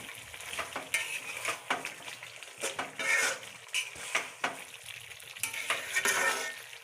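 Meat being stirred and fried in a pan, with steady sizzling broken by repeated scraping strokes and light clinks of a utensil against the metal, close and fairly quiet, with no talking.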